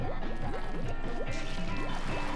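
A hidden character in the Splatoon video game bubbles steadily, producing rapid, repeating liquid gurgles at low volume with no pauses.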